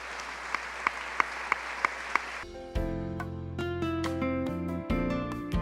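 A church congregation claps in a quick, even rhythm for a couple of seconds before bright organ or keyboard music swells in and takes over.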